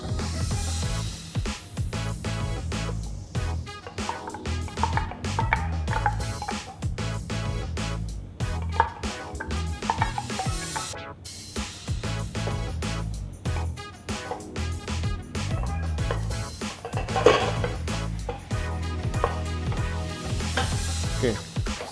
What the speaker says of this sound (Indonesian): setelah bumbu halus kita tumis di sini